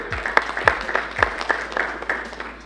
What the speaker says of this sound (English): Give them a hand of applause, ladies and gentlemen